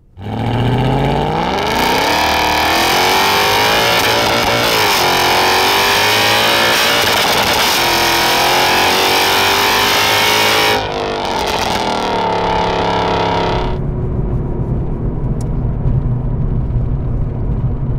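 A straight-piped Renntech Mercedes CLK63 AMG Black Series pulls hard in second gear. The engine roars loud and close as its pitch climbs steadily, then cuts off sharply to a lower, quieter rumble.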